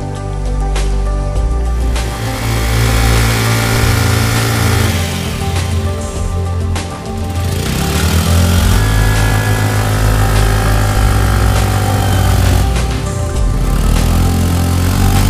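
A motorcycle engine runs steadily nearby on the sea beach at Mousuni Island, a loud continuous droning rumble throughout with slight swells in pitch, and no talking heard.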